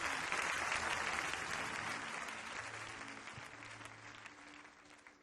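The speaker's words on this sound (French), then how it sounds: "Est-ce qu'on peut acclamer le Seigneur pour elle?" A church congregation bursts into sustained applause at a Christian testimony service. The clapping is dense and steady and fades slowly toward the end, with a faint murmur of the crowd beneath it.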